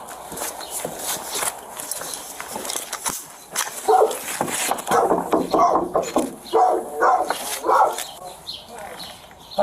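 A dog in a house basement barks at an evening visitor, several sharp woofs and whimpers mixed with footsteps and shuffling, while people speak nearby.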